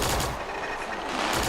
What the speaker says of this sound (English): So we're still firing at something